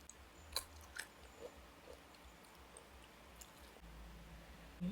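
Small tamarind eaten whole, heard as quiet, close chewing with soft wet bites and crunches scattered at irregular intervals over a low background hum.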